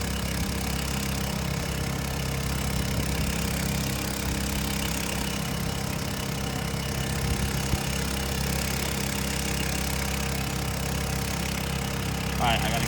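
A small houseboat's engine drones steadily on a river while pushing a barge, a loud, constant mid-pitched hum with rushing water; a voice speaks over it.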